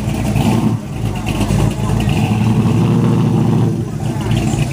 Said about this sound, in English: Big block in that boy, 575 or something.